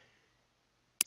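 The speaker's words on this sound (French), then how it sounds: "appuyez sur la touche CTRL de votre clavier" A single sharp click of the CTRL key on a computer keyboard lands near the end, after a near-silent stretch.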